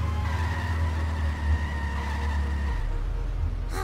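A car braking and skidding in the video game The Simpsons Hit and Run, with a steady engine drone and tire squeal that cut off abruptly near the end.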